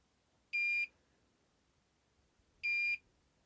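A Toptes CT-580 carbon monoxide detector sounding its slower alarm: two identical short electronic beeps about two seconds apart, clear and alone against a quiet room.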